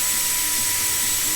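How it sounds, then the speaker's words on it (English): A drill bores spindle holes in a wooden seat blank held in a clamped drilling jig, giving a loud, continuous whirring and grinding noise with no talking. "you're drilling the hole at the right angle"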